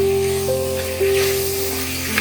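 Chopped tomatoes sizzling in a pan for prawn biryani, a close steady frying hiss with occasional scraping stirs, under a faint sustained tonal hum.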